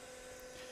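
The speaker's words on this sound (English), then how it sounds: "the DC motor is connected to this motor, which is part of the dynamometer." A small DC motor coupled to a dynamometer motor, drawing about a third of an amp, runs with a steady, even whine and hum, heard close and alone.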